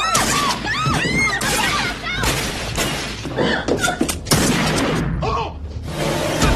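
Film shootout with bursts of gunfire, crashes and impacts crowding a dense, loud action mix, with shouting voices woven through the chaos.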